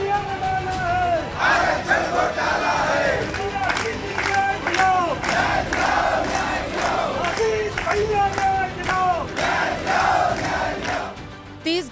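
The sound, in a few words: crowd of protesters chanting slogans outside a minister's house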